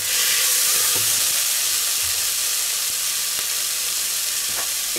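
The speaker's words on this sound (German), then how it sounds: "die Zwiebeln habe ich gleich angeschwitzt" Onions sweat in a hot pan with a loud, steady sizzle and hiss, punctuated by a few soft stirring knocks.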